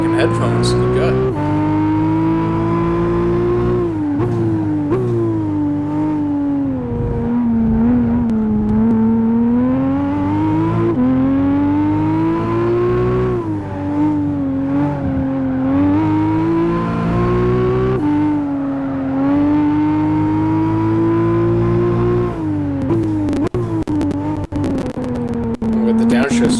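A Nissan Skyline ER34 in Gran Turismo 5 roaring loudly and continuously, engine pitch rising and dropping through gear changes and downshifts with crackling, a player's voice occasionally over it.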